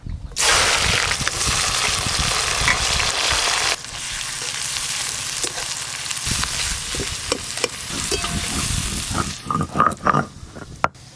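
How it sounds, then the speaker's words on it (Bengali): Chopped onions fry in oil in a pan toward golden brown, a loud close sizzle that drops in intensity partway through, followed by scattered stirring clatters and utensil knocks toward the end. "এবার এই পেঁয়াজ কুচিগুলো গোল্ডেন ব্রাউন কালার করে ভেজে নেব।"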